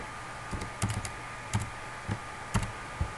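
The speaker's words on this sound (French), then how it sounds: "Je tape le nom de l'employé." An employee's name is typed on a computer keyboard in sparse, uneven keystrokes, about eight close, crisp taps with short pauses between them, over a faint steady room hum.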